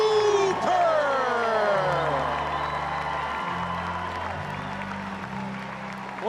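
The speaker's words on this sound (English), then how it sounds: "Wonderful, well-deserved round of applause for Doug Hooper" A ballpark crowd claps and cheers loudly for the local firefighter of the night at a Banana Ball All-Stars game against the Clemson Tigers, steady applause with whoops over stadium music.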